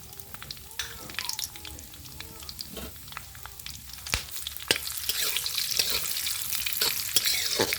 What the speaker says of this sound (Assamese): লগতে এলাচি আৰু লংখিনিও ভাজি ল'ম।